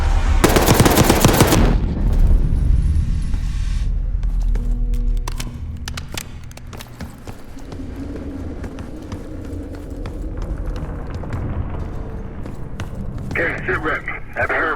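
Rapid bursts of automatic gunfire open loudly in Call of Duty: Black Ops 6, followed by scattered single shots and rumbling action sounds, with game effects continuing throughout.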